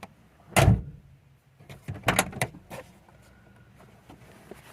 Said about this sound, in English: And now I'll open the door